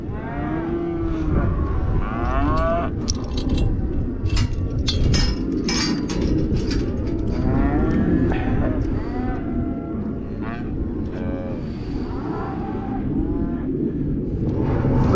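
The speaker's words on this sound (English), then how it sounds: "these are the bunch of calves that was weaned a few weeks ago." Recently weaned calves moo repeatedly and loudly in a cattle pen, overlapping calls near and far over a steady background rumble, with some faint voice mixed in.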